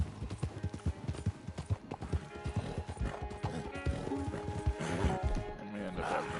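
Horse hooves clip-clop steadily in Red Dead Redemption 2, a fast close rhythm with an occasional whinny mixed in, continuing under game sounds and brief talk.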